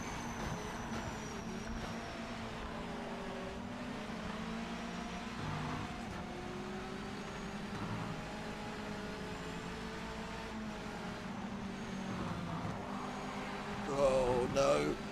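Racing car engine from the Project Motor Racing video game holds a steady droning hum, then rises into a choppy, stuttering burst near the end as it hits the rev limiter, with a voice faintly present.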